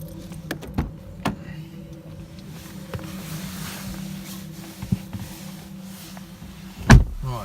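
Someone getting into an Audi RS4: soft clicks, key jingles and interior handling sounds over a quiet hum, ending in a single loud door thud near the end.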